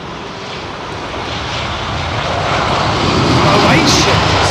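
A Croatia Airlines Airbus A320 with CFM56 engines takes off at Heathrow, its broad jet roar filling the air and slowly swelling louder as the aircraft powers down the runway.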